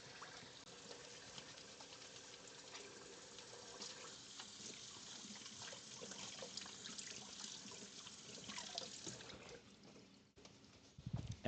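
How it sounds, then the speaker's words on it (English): Hands washed under a running kitchen tap, a steady soft trickle of water with small splashes and shifting flow that ends in a quick clatter. "let me wash my hands a little bit"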